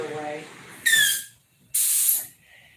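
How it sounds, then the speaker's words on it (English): Two short bursts of dry, airy hissing from a nearby paint sprayer with no paint coming out, each lasting about a second, separated by a brief pause. "This thing ain't spraying now for some reason. Got no paint coming out."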